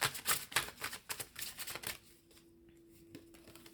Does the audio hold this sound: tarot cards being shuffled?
yes